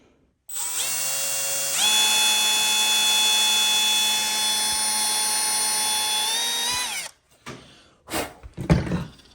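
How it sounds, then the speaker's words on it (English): A power drill whines at a steady high pitch drilling a hole in a kayak, steps up in speed, then winds down, followed by a few brief clunks and rattles. "And now I can just drill my second hole."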